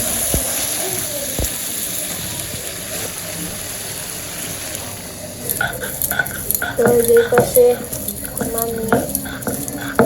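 Water is poured into braised meat in a cooking pot in a village kitchen, a soft running splash and hiss that begins midway under a low steady simmer, with a voice speaking at times.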